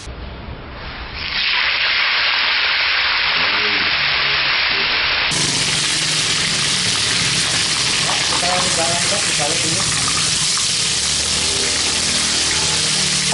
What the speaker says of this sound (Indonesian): minyaknya sudah panas. Mari kita turunkan ikannya